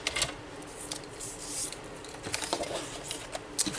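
Card stock being cut for a card box, close quiet snips and rustling paper in an uneven patter over a soft background hiss, without speech.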